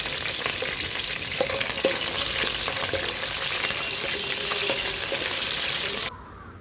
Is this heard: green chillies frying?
yes